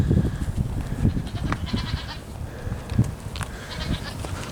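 Goats bleat amid livestock on a farm, with several short bleats rising over steady shuffling and rustling noise, moderately close and without talk.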